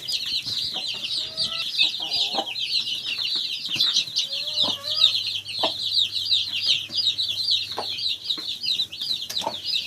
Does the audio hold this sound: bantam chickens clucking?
yes